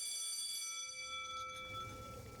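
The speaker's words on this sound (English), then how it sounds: "Class bell rings, disrupting the moment and snapping everyone back to reality." A school class bell in the dating sim game I Love You, Colonel Sanders! rings as a quiet, sustained metallic tone whose bright upper ringing fades over a couple of seconds.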